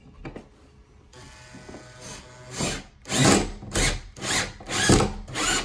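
A power drill drives a lag screw in at a diagonal to mount a Sol-Ark 15k inverter, whirring in several close, loud bursts that grow stronger as the screw tightens into the wood.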